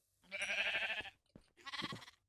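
Sheep in Minecraft being bred with wheat give two close, clear wavering bleats, the first longer and louder, separated by a brief soft thump.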